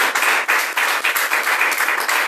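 A church congregation claps loudly together in fast, continuous applause, dense and close, with no talk over it.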